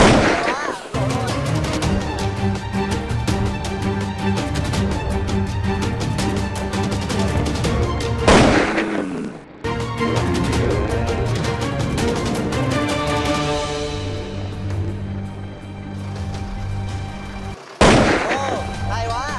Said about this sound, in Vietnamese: Ồ, hay quá, nổ rồi.